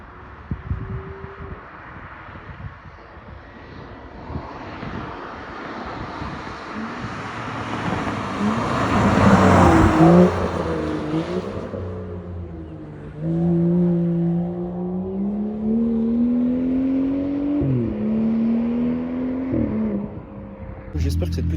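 A BMW 135i with a four-outlet exhaust passes close by, its engine note rising and falling through revs with a loud surge near the middle, while people talk throughout.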